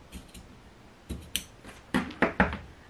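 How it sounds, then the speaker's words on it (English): Scissors snip into the corners of fabric on a sewing pattern piece, a few short quiet cuts spaced across the moment, the last three sharper and closer together. "And then you're just gonna snip into it like this."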